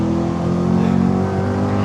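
A 2025 Chevrolet C8 Corvette's naturally aspirated V8 revs up close and loud, a rising throaty roar with strong harmonic tone that swells briefly then eases off.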